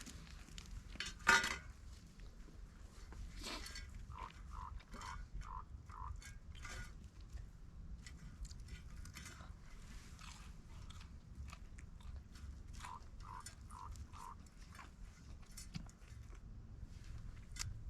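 A dog licks and nudges metal camp dishes at a desert campsite, giving soft wet licking, scattered clinks and scrapes of the dish, with faint chirping outdoors in the quiet background.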